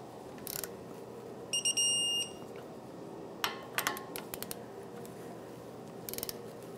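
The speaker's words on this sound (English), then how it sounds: "we're gonna torque the caliper mounting bolts to knuckle" Ratcheting clicks of a torque wrench tightening brake caliper mounting bolts on a Toyota 4Runner in a garage, with a brief electronic beep and scattered metallic clicks over a quiet background.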